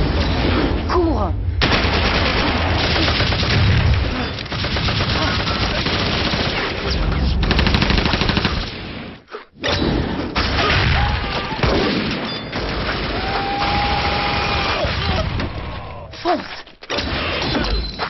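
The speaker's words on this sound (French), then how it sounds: "Comment on fait des scènes de fusillade aussi ambitieuses qu'il y a dans le film?" Dense, loud gunfire from a film shootout scene, with rapid bursts and booms layered over mechanical clatter. The barrage runs almost continuously and drops out only in a few brief gaps.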